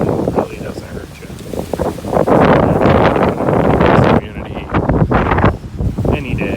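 Wind gusting outdoors in North Palm Springs, roaring steadily into the microphone with rustling bursts, while a person talks over it.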